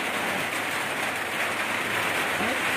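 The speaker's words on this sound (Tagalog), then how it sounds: "ang lakas ng ulan" Heavy rain pours in a dense, constant hiss with no breaks, loud and close, like a downpour on a roof or hard surface.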